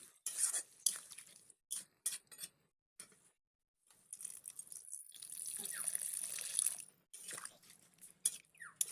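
Water poured into a pan of cauliflower and potato curry makes an intermittent splashing pour with short gaps and light clinks of utensils, fairly quiet and close.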